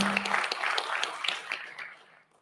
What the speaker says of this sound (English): Can we please have a huge round of applause for the first team?